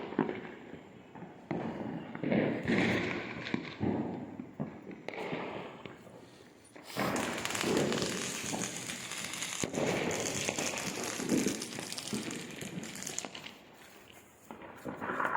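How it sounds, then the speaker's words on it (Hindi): Diwali firecrackers pop and crackle repeatedly at a distance, with scattered bursts and a sustained stretch of rapid crackling against outdoor background noise. "पटाखे भी चलने शुरू हो गए"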